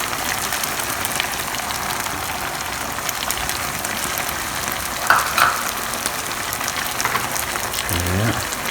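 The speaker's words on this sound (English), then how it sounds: "Stir that all in." Garlic chilli chicken frying in a pan as coriander and spring onions are stirred in, giving a steady close sizzle with occasional utensil clinks and scrapes and a brief low murmur near the end.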